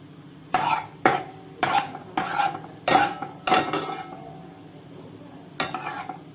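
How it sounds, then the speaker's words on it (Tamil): Fennel seeds tempering in hot oil in a pan on a low flame: a series of short, close bursts of spoon-against-pan stirring clatter with a light sizzle between them, and no talking. "இதில் கொஞ்சம் சோம்பு மட்டும் போட்டு தாளிச்சுக்கிறேன் நான்"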